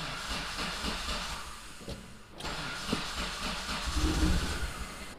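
A Mitsubishi 3000GT VR4 with an AEM standalone ECU and 800cc injectors cranks over with low battery, a steady hissing mechanical churn that briefly drops out and resumes, growing rougher and louder near the end.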